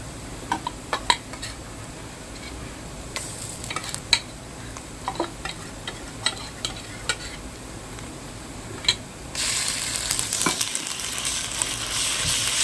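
Ginger garlic paste fries in a pan for chicken sukka while a spoon stirs it, with scattered scraping clicks over a low sizzle that swells into a louder, hissing fry near the end.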